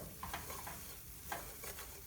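A flour and butter roux bubbles gently in a pot for mac and cheese while being stirred, with soft continuous sizzling and occasional scraping strokes of the spoon, close up and steady.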